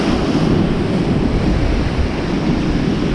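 Heavy sea swell breaking on a UK shore makes a loud, steady roar of surf that never lets up. Wind buffets it throughout, and no one speaks.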